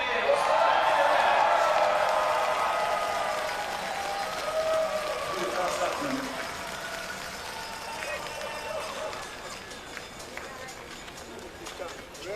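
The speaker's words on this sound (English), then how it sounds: "Är det någon som vill ge en applåd till Magdalena Forsberg?" An outdoor crowd applauds at a biathlon women's sprint flower ceremony in Östersund, Sweden, loud at first and then fading into scattered claps as an announcer speaks over it.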